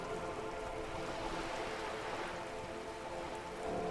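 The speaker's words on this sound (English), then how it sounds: "All around you, rain keeps falling down. On the wooden boards she's standing on, and on the water around you." Rain falling on wooden boards and water in the Disco Elysium video game: a steady, dense hiss of raindrops pattering evenly, soft and continuous with no voices.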